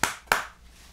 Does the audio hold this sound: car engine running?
no